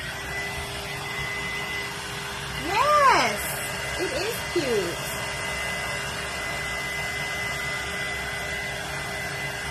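A hair dryer blows a steady, even drone over freshly painted thin wood pieces for a patriotic table craft, running throughout while people briefly talk over it.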